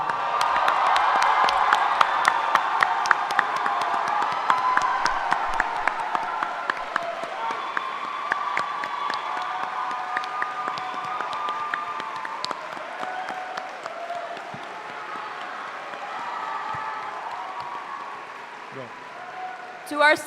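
Applause from a graduation ceremony audience for residential life staff and parents, strong clapping with scattered cheers and whoops at first, then slowly thinning out over twenty seconds, with voices murmuring underneath.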